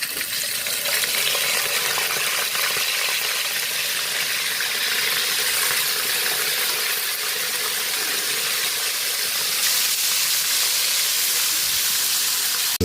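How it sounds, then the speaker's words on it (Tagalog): A continuous, even sizzle of fish frying in hot oil in a pan, crackling steadily throughout with no voices. "Magpiprito na tayo ng isda."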